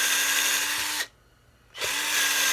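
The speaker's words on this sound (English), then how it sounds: "what we're going to do is we're going to drill" Power drill boring into a guitar body, a loud close whirring drill bursts, cuts out for under a second, then whines up again, with no talk.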